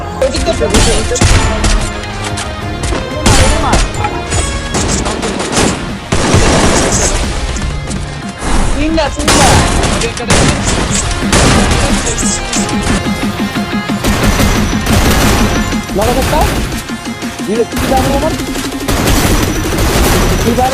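Dense, continuous gunfire from a competitive shooter video game fills the scene, with rapid bursts, booms and crashes layered over constant background sound and music.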